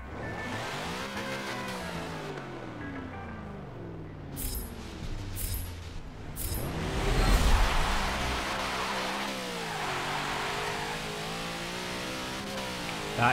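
Engine note of a tuned drag car in Forza Motorsport 7 racing game, revving and pulling hard through rising gear shifts, with repeated climbing pitch sweeps and a loud surge midway, no talk over it.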